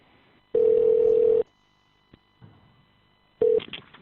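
A phone call rings out with a steady ringback tone, one long beep followed by a shorter one after a pause, clear and alone.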